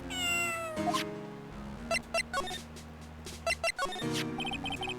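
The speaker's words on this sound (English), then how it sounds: "That's a very cute cat you've got here." A cat meows in Ace Attorney: Justice For All, several cartoonish meow calls standing out clearly over steady looping game music, with brief pauses between them.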